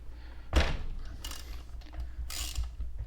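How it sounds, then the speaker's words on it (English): A 3/4 inch socket and ratchet loosen the spark plug on an Echo GT 2000 string trimmer, turning it counterclockwise; a couple of close, sharp mechanical clicks and scrapes come through with a low background hum. "we're going to use is a 3/4 inch socket and ratchet. And we're just going to break this free"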